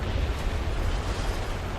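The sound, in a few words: artillery strike explosion in video game War Thunder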